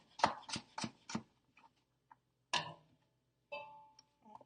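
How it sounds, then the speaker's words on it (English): A knife chops through sweet potato on a cutting board, four sharp, evenly spaced close strikes followed by a few softer scattered knocks and a louder final chop, with some faint kitchen clatter. "I'm just chopping up my sweet potato now."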